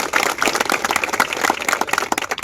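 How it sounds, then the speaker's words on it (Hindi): An audience at a public gathering claps to thank the media, with dense, steady applause from many hands that stays loud and continuous throughout, no voices standing out. "एक बार ताली बजा के मीडिया बंधु को धन्यवाद दीजिए"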